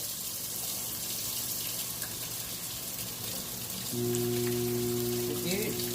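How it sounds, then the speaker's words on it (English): A kitchen tap runs steadily as hands are washed during meat sauce preparation, giving a continuous close hiss of flowing water with a faint hum rising underneath toward the end. "Wash my hands."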